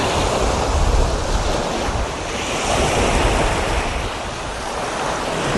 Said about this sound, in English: The wind's starting to get up a little bit.